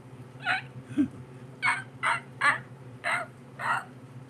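A human voice imitates a small dog, giving about seven short, sharp yaps in an uneven rhythm, close and fairly loud.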